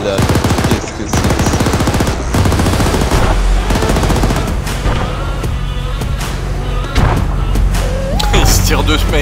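Gunfire crackles through a firefight on Altis in the video game Arma 3, Antistasi mode, with rapid machine-gun bursts and single shots rattling on almost without pause. Voices talk over the shooting.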